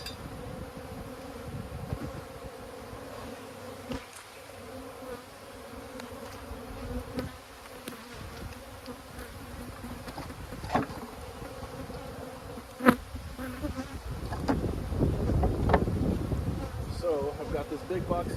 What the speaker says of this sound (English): I'm just going to shake all the bees on top. They're all going to go airborne